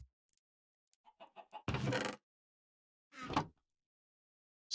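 Chickens in the video game Minecraft give a few short, sparse clucks, followed by a couple of louder bursts of game sound separated by silence.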